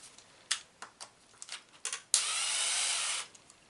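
Work on the rear section of a Serpent Cobra 811GT model helicopter: several short, sharp clicks and taps of handling, then a steady high whirring burst, like a small power driver, lasting about a second before stopping.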